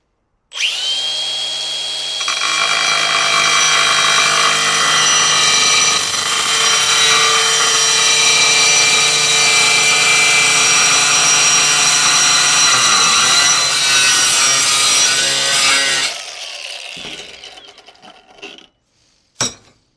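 An angle grinder with a diamond blade cuts through a large 12 by 24 tile in one loud, sustained high whine that holds steady for about fifteen seconds, then spins down, followed by a few clicks and knocks.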